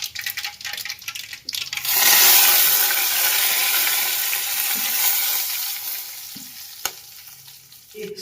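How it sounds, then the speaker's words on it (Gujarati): Chillies, bay leaf, curry leaves, cloves, fenugreek seeds, cumin and asafoetida go into hot oil with popped mustard seeds for sambar. After a quieter start, a sudden loud sizzle bursts out and then slowly eases into a continuous frying hiss. "રાઈ ફૂટી જાય પછી આ મસાલા નાખશું મરચાં તમાલપત્ર મીઠા લીમડો લવિંગ મેથીના દાણા જીરું હિંગ એટલા મસાલા નાખશું"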